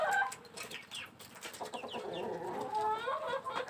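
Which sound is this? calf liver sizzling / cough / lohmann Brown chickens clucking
lohmann Brown chickens clucking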